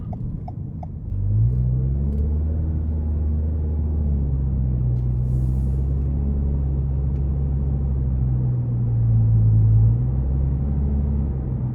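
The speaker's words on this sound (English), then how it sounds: "That exhaust just sounds really, really nice." A 2021 Toyota Corolla SE Apex exhaust drones steadily while driving, a low close rumble that rises and falls gently as the revs shift, swelling briefly near the end.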